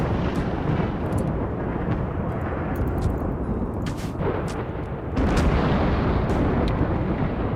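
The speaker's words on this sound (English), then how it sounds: "It's a very calamitous thunderstorm" A rumbling thunderstorm in the colony-building video game Rimworld: dense, continuous low roaring with heavier booming swells now and then, loud and steady throughout, no voices.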